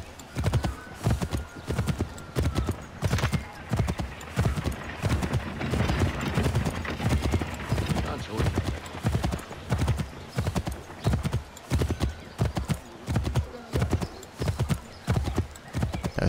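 A horse ridden around in circles in the action game Assassin's Creed III gallops with loud, rhythmic hoof clip-clops in steady repeating bursts throughout, with occasional snorts or whinnies and no talking.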